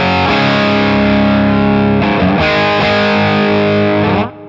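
An electric guitar through a Beetronics Octahive fuzz pedal rings out loud, heavily distorted sustained chords, changing once midway, then cuts off abruptly at the end.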